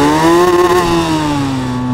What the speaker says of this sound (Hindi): एग्जॉस्ट का साउंड सुन रहे हो भाई तुम, किस तरीके से आ रहा है